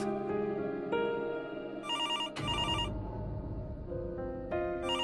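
Landline telephone ringing in a Hindi TV drama, a repeated electronic ring in bursts with a sharp thud in the middle, loud and near, with no talk.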